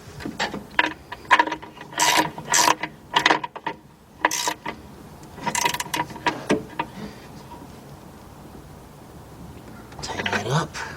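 A ratchet tightens bolts on replacement horns in a 1981 Mercedes-Benz 240D, heard as bursts of rapid clicking and scraping strokes separated by short pauses, close and fairly loud, ending in a final flurry.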